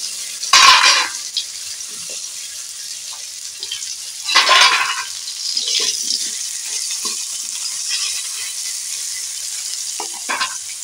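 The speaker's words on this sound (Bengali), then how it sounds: "তেল হয়ে আছে, বড়ি ভাজার তেলটাতে আমি করলা দিয়ে দিলাম।" Bitter gourd pieces, rubbed with salt and turmeric, dropped into hot oil left from frying lentil dumplings, setting off bursts of sizzling and frying with light stirring and pan clatter, loud at first and then settling to a steady crackle.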